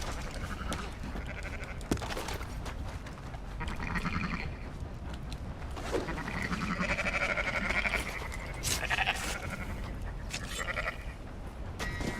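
Sheep bleating in the online mode of the video game Red Dead Redemption 2, several drawn-out, wavering calls repeating across the stretch over a steady background hum, close and fairly clear with no talk.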